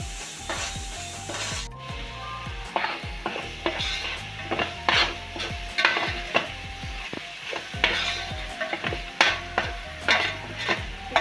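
Fish curry masala with curry leaves and turmeric being stirred in a pan for Andhra-style fish curry, with repeated scraping strokes of a spoon against the metal over a steady sizzle, close and clear.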